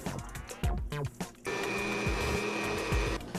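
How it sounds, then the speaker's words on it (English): A kitchen blender purees a cooked sweet and sour sauce, starting with a few short pulses and then running at a loud, steady whirring roar for about two seconds before cutting off. "run the whole thing through the blender"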